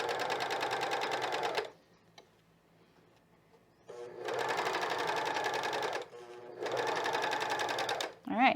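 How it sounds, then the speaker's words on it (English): A cover stitch sewing machine stitching fold over elastic runs in three fast, even, whirring bursts separated by pauses, close and loud, with a person speaking in between. "one stitch forward, one back, up, and then I can pull it out, just like this."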